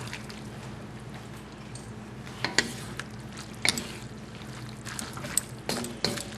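Al dente spaghetti being tossed with sauce in a pan, wet squishing and stirring with occasional sharper clicks of the utensil, close up, under a low sizzle.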